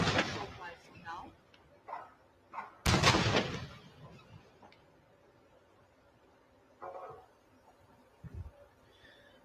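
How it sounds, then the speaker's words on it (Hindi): Ceremonial naval guns fire a 21-gun salute for the President of India, heavy booming blasts spaced several seconds apart with rolling echoes, one especially loud and close, and a broadcast voice faintly beneath. "Honorable President of India receiving 21 guns live on your screen."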